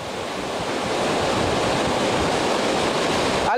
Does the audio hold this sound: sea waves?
yes